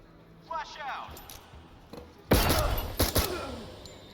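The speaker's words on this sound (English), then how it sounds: "Let's get a flashbang in here." A flashbang grenade goes off during a Door Kickers 2 SWAT breach, a loud, dense burst followed by several sharp follow-up bangs, preceded by brief clinking and thumps with voices in the background.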